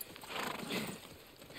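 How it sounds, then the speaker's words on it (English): A horse in The Last of Us Part 1 video game gives faint hoof clatter and a soft whinny, low in level beneath a wash of in-game ambient noise. "Just get the horse."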